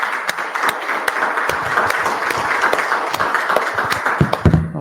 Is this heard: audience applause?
yes